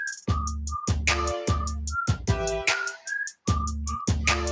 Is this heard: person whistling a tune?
yes